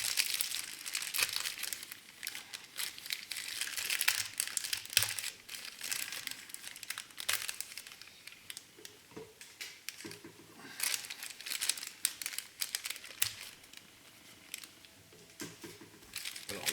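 Plastic packaging from a Tamiya Honda NSX 2016 model kit crinkles and crackles as it is opened, a steady close run of dry rustling and tearing with no talk.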